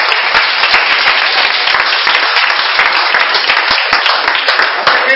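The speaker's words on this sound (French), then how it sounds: "Est-ce qu'on peut acclamer Jésus?" A church congregation applauds to acclaim Jesus, a dense, continuous roar of many hands clapping, loud and close, with sharp individual claps standing out throughout.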